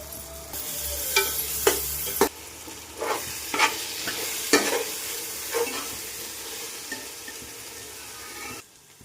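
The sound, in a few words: frying ginger garlic paste with mint and coriander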